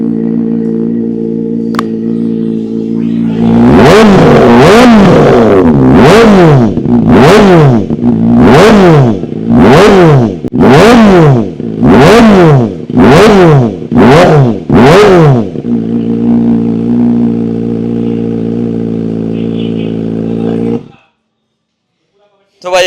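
Suzuki GSX-R1000 motorcycle with a free-flowing full-system exhaust, idling then blipped through about ten sharp, loud rev bursts in a steady rhythm, settling back to idle before cutting off.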